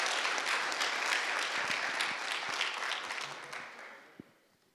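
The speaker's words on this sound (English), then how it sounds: "a massive round of applause" Audience applause at a Southern Africa Development Community–India LPG summit, a broad, steady wash of many hands clapping that fades out near the end, with a brief thump as it dies away.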